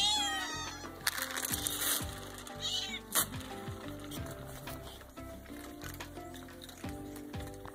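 Hungry farm cats meow at a door, several overlapping rising calls near the start over steady background hum, with quieter scattered mewing continuing throughout.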